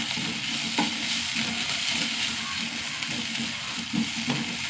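Onion, green chillies, a small piece of ginger and four crushed garlic cloves sauté in hot oil with a steady, close sizzle and occasional soft stirring scrapes.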